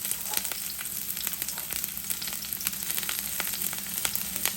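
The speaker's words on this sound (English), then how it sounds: "Okay, I'll put my onions and let that cook up a little." Onions frying in a pan, a steady crackling sizzle with fine spattering pops running throughout, close and fairly quiet with no talk.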